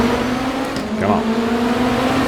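A Lamborghini LMDh race car engine in the RaceRoom racing game drones steadily uphill, a loud continuous whine under load with no break in the sound.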